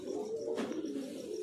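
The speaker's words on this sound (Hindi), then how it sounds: "और मेरे भाई ये आ गए कबूतर" Pigeons coo softly in a steady, low, throaty warble, fairly close and alone, with a faint brief chirp overhead.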